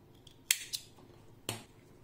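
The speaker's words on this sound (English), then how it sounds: "I am making 1 chain and cutting the yarn." Scissors snip through crochet yarn in a few quiet, crisp cuts: two quick close snips followed a second later by another, with nothing else heard.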